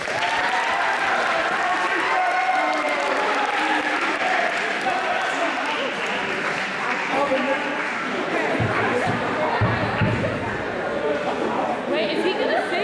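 An audience at an addiction-recovery event in New York City gives a round of applause, a sustained burst of clapping with crowd noise throughout, while voices call out over it.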